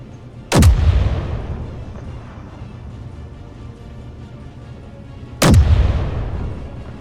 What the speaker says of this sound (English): Just blow up the gun, please.